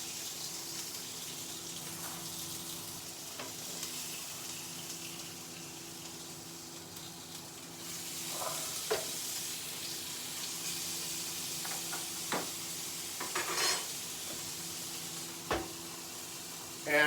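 A one-pound Western steak sizzles steadily in a frying pan, a continuous hiss running throughout with a few sharp clicks and knocks from handling and flipping, no talking.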